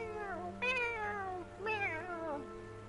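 A cat gives two clear, drawn-out meows one after the other, close and distinct over a quiet background, in the game Hogwarts Legacy.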